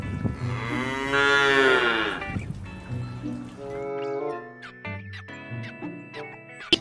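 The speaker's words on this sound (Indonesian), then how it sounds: "Wow, ini adalah seekor sapi teman-teman." A black and white cow in Jurassic World Evolution 2 lets out a long, loud, close moo, followed by a few shorter lowing calls, with faint trickling and dripping sounds between them.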